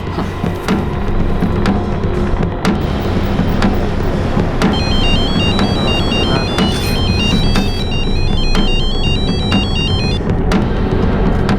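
A telephone ringtone repeats in a steady electronic warble pattern, loud and close, with sharp clicks and background noise throughout; no voices are heard.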